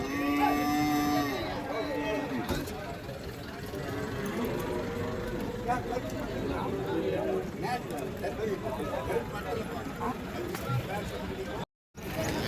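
A native cow lows at an open cattle market, with someone talking over the busy outdoor crowd and background chatter throughout.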